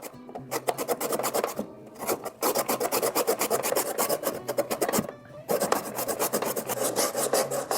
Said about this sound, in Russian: Натираю морковь.